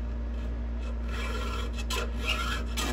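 A square file sharpening a chainsaw chain rasps steadily across the cutters, quiet and close, with repeated scraping strokes over a low background hum and no speech.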